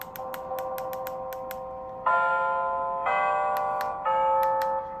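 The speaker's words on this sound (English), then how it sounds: "See, there's a chime on it." Chimes from a 17-inch digital wall clock play indoors: a run of quick ticking taps, then three sustained bell-like tones ringing one after another, clear and fairly close.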